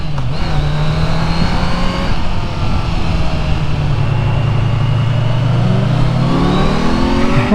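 A Kawasaki Z900 motorcycle engine roars steadily up close and climbs in pitch as it accelerates, with wind buffeting throughout.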